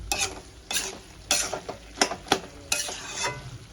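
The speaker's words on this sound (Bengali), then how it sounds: "ভালো করে মিক্স করে দেবো।" A spatula stirs bottle gourd ghonto with shrimp and lentil dumplings in a pan, giving about seven rhythmic scraping strokes over a gentle sizzle, close and without speech.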